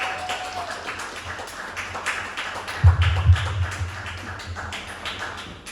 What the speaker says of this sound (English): let's all give her a big round of applause, a big warm welcome for Pistol Packin Jessy